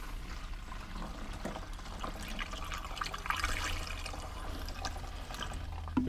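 Old stale yellowed fuel pours out of a fuel container during a Briggs & Stratton small engine service, a steady close liquid splashing and trickling that continues throughout.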